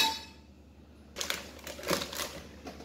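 Spices, turmeric powder among them, being stirred for a chicken curry: after a quiet start, gritty scraping and crunching strokes come in irregular bursts, close and fairly clear.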